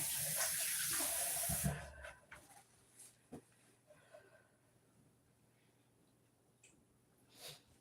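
Tap water runs loudly at the sink for the first second and a half while hands are washed, then stops abruptly, leaving faint clatter and quiet room noise.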